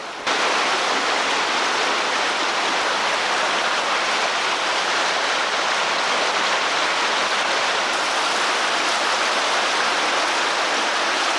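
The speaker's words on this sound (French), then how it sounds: "La pluie qui tombe depuis plusieurs heures amorce une crue souterraine" Steady broadband hiss of rain falling for hours, continuous and even throughout with no pauses, dense like heavy downpour or rushing water; no voices.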